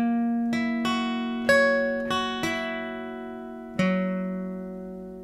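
An acoustic guitar picks out a fingerstyle chord pattern, one note after another, with each plucked string ringing on clearly and close.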